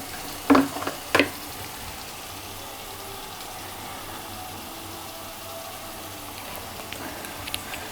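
Crab curry masala sautés in a pan with a faint, steady sizzle. Two sharp clinks of a utensil come near the start, and a few soft taps follow later, all close by and without speech.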